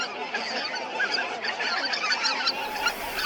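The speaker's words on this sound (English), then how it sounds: "If you see geese sitting in a field, they're likely white-fronted geese." A flock of white-fronted geese sits in a farm field in Japan, honking continuously in a dense, overlapping chorus of many calls at moderate distance.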